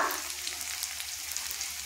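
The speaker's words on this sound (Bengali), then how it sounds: "এটা দিয়ে ভালো করে পেঁয়াজের সাথে নাড়াচাড়া করে ভেজে নেব" A steady sizzle of onion and ginger-garlic paste frying in hot oil, soft and continuous with faint crackles, no voices.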